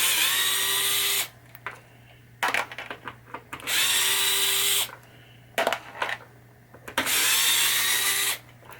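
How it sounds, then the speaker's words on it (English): A power screwdriver removes three screws from the saucer mechanism of a 1986 Gottlieb Hollywood Heat pinball machine, running in three loud, sustained whirring bursts separated by short pauses filled with handling clatter. "we will take off these three screws here to get this mech off"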